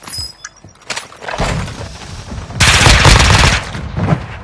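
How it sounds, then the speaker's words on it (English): Rapid bursts of automatic gunfire ring out in a shooting video game, loud and close, building into a dense sustained fusillade at mid-clip before easing off. "I'm taking fire!"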